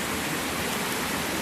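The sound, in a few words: river water flowing past a crossing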